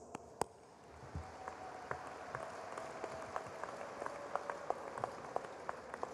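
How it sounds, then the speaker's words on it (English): Audience applause at the Illinois Tech 2023 commencement for College of Architecture graduates, faint and distant scattered clapping with a few sharper nearby claps standing out over a soft hall background. "Applause."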